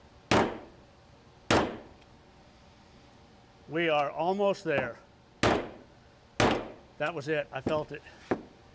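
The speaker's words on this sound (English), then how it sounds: "I'm getting a bigger hammer because that one has too much bounce to it." Heavy hammer blows from a bigger hammer land one at a time in a slow, irregular rhythm on an LS truck engine plug, loud and close, with people talking between strikes.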